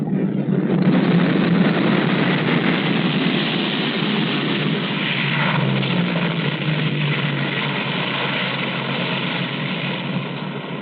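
Loud droning roar of a YC-123H propeller transport aircraft engine landing, steady and close, with a slight shift in pitch partway through, no talk.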